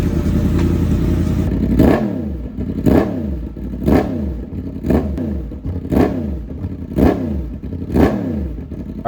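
A Yamaha MT10 motorcycle engine runs while warming up, blipped in a regular rhythm of about six revs that rise and fall roughly once a second, close and loud over a steady idle.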